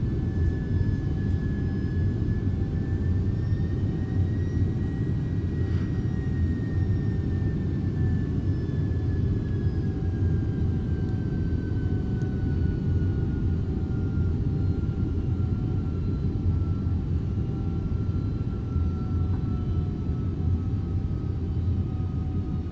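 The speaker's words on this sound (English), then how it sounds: "You can hear the hydraulics, which follows Pascal's law." Hydraulics whine on an MD-11 in the X-Plane 12 flight simulator, thin sustained tones gliding slowly in pitch above a constant heavy engine rumble, steady throughout with no talking.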